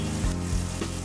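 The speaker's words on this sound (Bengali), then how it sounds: "মোটামুটি 2 থেকে 3 মিনিট মতন আমরা পেঁয়াজটাকে একটু ভেজে নেব।" Chopped onions fry in hot oil for an egg keema, producing a dense, continuous sizzle close by with faint stirring knocks throughout.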